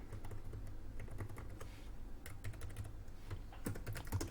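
Code comments are typed on a computer keyboard, with quiet, irregular bursts of key clicks in short runs and brief pauses between them.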